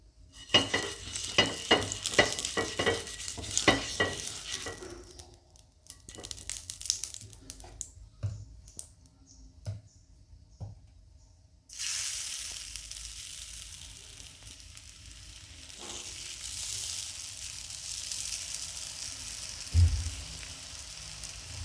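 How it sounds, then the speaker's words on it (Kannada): Jackfruit dosa cooking in oil on a pan, opening with close rhythmic scraping and clatter, a quieter pause with faint taps, then a steady broad sizzle from the hot oil. "ಚೆನ್ನಾಗಿ ಎರಡು ಕಡೆ ಎಣ್ಣೆ ಹಚ್ಚಿ ಬೇಯಿಸೋದ್ರಿಂದ ತುಂಬ ಘಮ ಘಮವಾದ ದೋಸೆ ರೆಡಿಯಾಗುತ್ತೆ"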